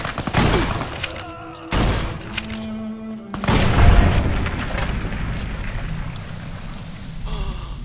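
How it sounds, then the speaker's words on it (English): Anti-material rifle in Fallout New Vegas firing heavy booming shots, with loud broadband blasts around one, two and three and a half seconds and ringing, rumbling tails between and after them. "Yo, anti-material rifle, let's go!"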